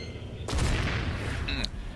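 Gunfire erupts in StarCraft II: a dense, loud volley of shots and impacts rattles for about a second, then cuts off, followed by a brief electronic beep.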